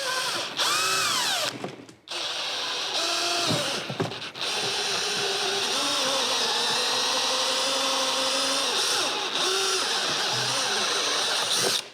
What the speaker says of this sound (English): we'll drill the hole straight in the side with the Christmas tree bit